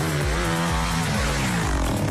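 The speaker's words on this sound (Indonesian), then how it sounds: "Rossi tampak menaiki motor di Ravenna, Italia" Motocross motorcycle ridden by Valentino Rossi on a dirt track in Ravenna, Italy, its engine droning loud and close with a steady, buzzing rasp and rhythmic surges in pitch as the throttle rises and falls.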